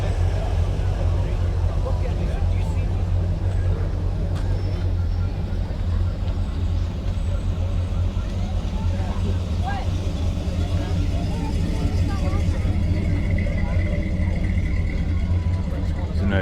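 Steady engine rumble of old cars rolling past in a parade at a 1950s-themed car show, a continuous low drone of passing vehicles with crowd noise and voices in the background.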